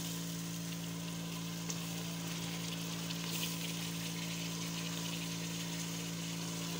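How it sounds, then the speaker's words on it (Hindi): Eggplant pieces fry in a pan for an arvi-baingan dish, giving a steady, even sizzle that holds throughout without pause, joined by a constant low hum in the background. "अभी मैं बैंगन डाल दूंगी इसके अंदर।"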